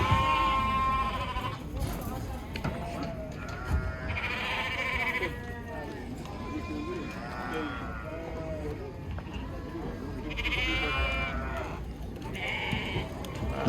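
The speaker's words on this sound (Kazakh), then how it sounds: "Мына жерде әдемі бағалған бір семіз қой тұр екен." Sheep bleat repeatedly at a busy livestock market in Kyzylorda where sheep and goats are sold, several calls rising and overlapping in a noisy crowd, with people talking steadily nearby throughout.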